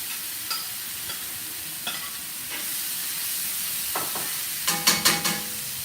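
Pork pieces fry in oil in a pan for sweet and sour pork, giving off a steady soft sizzle, with light scrapes of stirring and a few sharp utensil clinks near the end.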